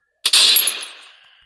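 A single gun fires in the Free Fire video game, one loud, sharp crack with a bright, hissing tail that fades over about a second after brief silence.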